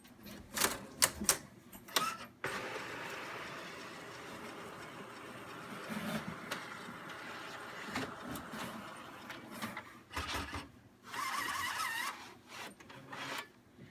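An Epson P600 photo printer runs through a print job, with fast rattling bursts of the print head and paper feed alternating with steadier mechanical whirring, close and moderately loud, with no talk.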